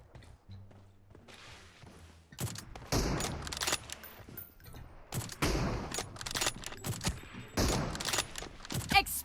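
M4 rifle fire in a team deathmatch video game, loud bursts and single shots coming in irregular clusters, with a few footsteps and creaks in between and a voice talking now and then.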